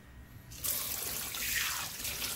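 Tap water running steadily into a sink while a freshly cut catfish is washed for a Guyanese curry, the stream starting abruptly and continuing loud and close.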